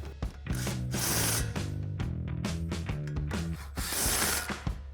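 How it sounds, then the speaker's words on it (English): A loud impact wrench with a 15mm socket hammers and whirs in sustained bursts, tightening two strut bolts on a C&L CX2 front strut installed on a 2015-2025 Ford Mustang, close up with no talk. "Grab our impact and 15mm socket and tighten those two down."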